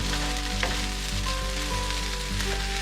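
Japanese ketchup fried rice with sausage, potato, edamame, carrot and onion crackles in a hot pan, a steady close sizzle with a few light stirring scrapes.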